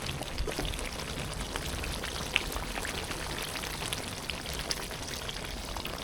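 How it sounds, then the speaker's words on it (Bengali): Hot water poured into a pan of browned, spice-coated chicken being cooked down for a Bengali chicken kosha, giving a steady close splashing, bubbling pour with light sizzling throughout, no talking. "সামান্য একটু পানি দেবো গরম পানি"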